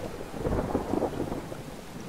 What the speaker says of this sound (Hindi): तूफानी रात